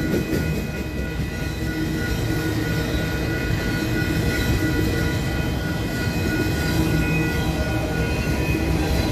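A nearly new BNSF freight train hauling auto rack cars rolls past close by, with a continuous loud rumble of wheels and rail noise and faint squealing tones throughout.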